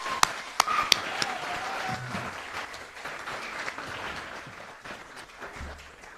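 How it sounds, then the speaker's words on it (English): Audience applause at an Australia Day council awards and citizenship ceremony in Kiama, a steady spread of clapping with a few sharp louder claps near the start, sustained at moderate level for the whole span. "give them another round of applause"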